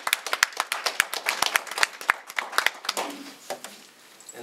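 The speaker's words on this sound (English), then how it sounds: "Let's give her another round of applause." An audience breaks into applause at a religious teaching event, with dense, uneven clapping from many hands that swells and then thins out over a few seconds. The clapping is near and moderately loud, and no speech is heard.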